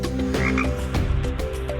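A frog croaks loudly and close up in a quick run of rhythmic croaks, with no talking over it.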